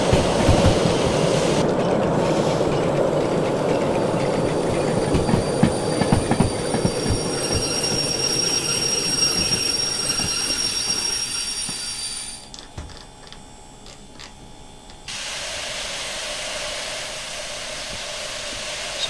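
A steam locomotive in the Derail Valley game rumbles and clatters along the rails, its wheels squealing under braking, then the roar cuts away sharply to a quieter hiss before a steady hum resumes.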